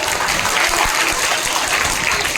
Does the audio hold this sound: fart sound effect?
no